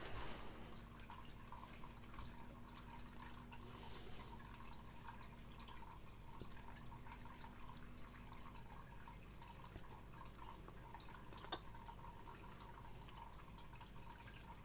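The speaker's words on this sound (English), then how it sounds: "There is a small waterfall in my fish tank, and that's the sound it makes." A small waterfall in an aquarium fish tank trickles and drips steadily and faintly, with a constant low hum beneath it.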